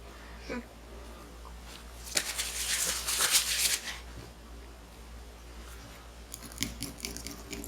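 Foil food packaging is torn and crinkled open by hand, with a brief rustle, a louder crackling burst in the middle and a few faint crinkles afterward, close and fairly quiet.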